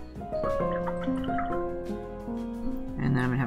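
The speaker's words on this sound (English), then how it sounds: "I'm going to rinse my brush." Watercolor paintbrush rinsed in a water jar, a string of clear dripping, bubbling splashes and gurgles close by, uneven and lively, ending in a brief burst of swishing.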